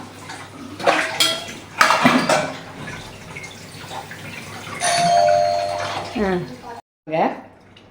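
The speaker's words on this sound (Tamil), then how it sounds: "இப்போ இந்த பாத்திரம்லாம் அப்படியே தான் நம்ம அடுக்க போகிறோம்." Dishes clink and clatter as they are stacked into a dishwasher, with running water and someone talking in Tamil over the sounds.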